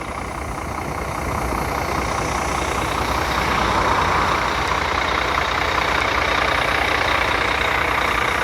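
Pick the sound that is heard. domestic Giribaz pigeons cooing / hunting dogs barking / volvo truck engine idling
volvo truck engine idling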